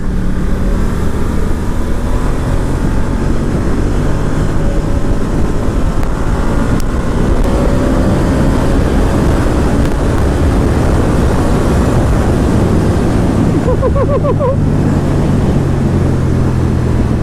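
A 2019 Ducati Diavel 1260S motorcycle ridden hard on the road, its engine roaring loudly and continuously with rising and falling revs, heavy wind rush throughout, up close with no talk.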